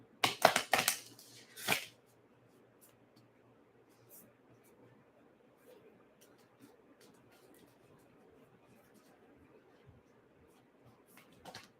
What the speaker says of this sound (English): I'm just shuffling these cards